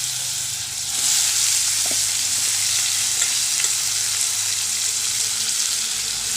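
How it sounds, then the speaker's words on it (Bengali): Potatoes fry in a pan, giving a steady bright sizzle with a soft hiss that holds throughout, alongside a few faint clicks from stirring. "তো আলুটা ভেজে নেব।"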